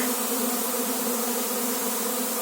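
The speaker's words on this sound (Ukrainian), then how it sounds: "А це ось такий потужний рій залітає до мене." A large swarm of honey bees flying in at an apiary, a loud, dense, continuous buzzing hum close by with no voices.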